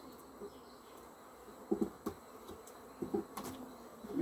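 Honeybees buzz around hive frames being handled, a faint, steady insect drone with scattered louder buzzes passing close by and a few soft knocks.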